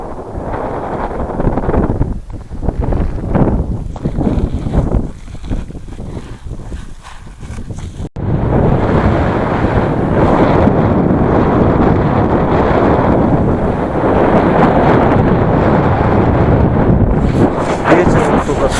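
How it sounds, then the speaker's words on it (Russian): Strong headwind buffeting the microphone on an open, barren Mongolian stony valley, a loud continuous roaring rumble that surges and steadies, with brief speech early on. "Ветер только встречный."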